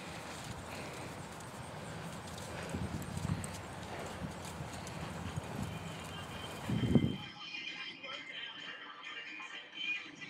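Horse hooves clip-clop steadily on a hard surface, close by and moderately loud, with a whinny-like burst near the end before the sound thins out.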